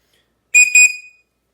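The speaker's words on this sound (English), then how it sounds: "while we have the whistle, we might as well give that thing a blow" A loud, shrill survival whistle blown in two quick blasts, the second held a little longer before trailing off, with silence on either side.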